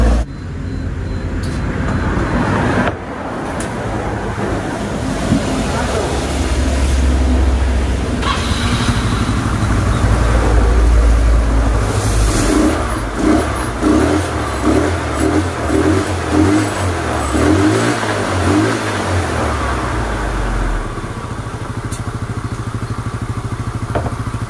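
A carbureted Yamaha Mio scooter engine, hard to start when cold in the morning, turns over and catches, then runs with a close, continuous buzzing drone that pulses unevenly in the middle and settles into a steady idle.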